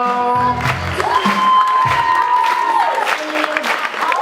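A live crowd claps for the belly dance students at a recital, steady dense applause running throughout with a few cheers and an announcer's voice and music tones over it.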